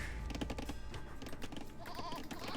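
Sheep bleating in the video game Age of Empires 2, a few short bleats over steady game background sounds with busy clicks.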